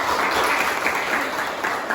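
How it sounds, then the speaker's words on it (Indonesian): Students applaud a presenting group in a classroom, a brief burst of steady, close clapping from many hands with no talk over it. "tepuk tangan dulu dong untuk kelompok 2"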